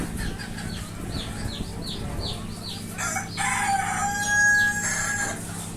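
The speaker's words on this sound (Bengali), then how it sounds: "আর মোরগ আছে হলো" A rooster crows repeatedly on a small farm of native laying hens and roosters kept in cages. The loud rising calls come one after another, with clucking and background farm noise beneath.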